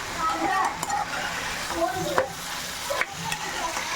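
Tapioca stir-fry is stirred in a pan with close scraping and clinking spoon strokes over a steady sizzle, and a voice is heard now and then beneath.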